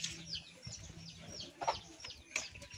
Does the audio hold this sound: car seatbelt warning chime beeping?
no